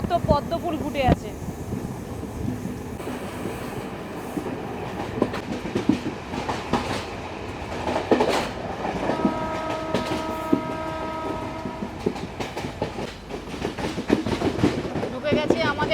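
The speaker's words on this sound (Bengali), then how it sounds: "ঢুকে গেছে আমাদের ট্রেন কুরুনেগালা রেলওয়ে স্টেশনে" Jaffna to Colombo Intercity Express pulling into Kurunegala railway station in Sri Lanka, a steady rumble of rolling cars with clicking wheels and a long tonal squeal of brakes near the end, heard from onboard with faint voices.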